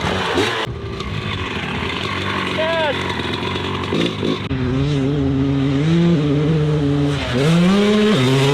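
A 21-year-old Honda CR 250 two-stroke dirt bike engine buzzes and revs hard, pitch rising and falling as the throttle opens, with a rider talking loudly over the roar.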